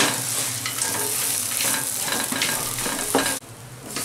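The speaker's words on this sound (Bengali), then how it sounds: "এবার আলুটা দিয়ে একদম পুরো কষে নেব" Potatoes stir-fried in a spice paste in a pan for a Bengali-style chop give a loud, steady sizzle with scraping stirs close by, cutting off abruptly near the end.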